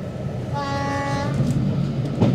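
A heritage railway train running along mainline tracks between Grosmont and Whitby sounds a brief steady horn over a continuous low rumble of wheels on rail, fairly loud and close.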